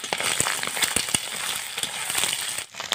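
Egg frying in a pan with onions for a tomato egg chutney, a dense close sizzle with scattered crackles and pops, steady throughout and free of talk.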